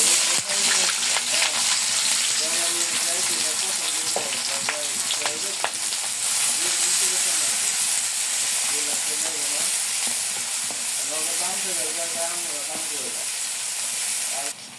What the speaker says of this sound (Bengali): বাগার দিব তেল দিয়ে দিই, শাক বাগার দিব। পেঁয়াজ দিয়ে দিলে